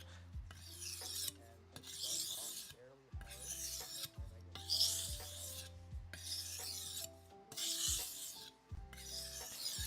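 A knife is drawn across a sharpening stone in repeated rhythmic strokes, each a gritty rasp followed by a short pause, with a low steady hum in the background of a late-night session.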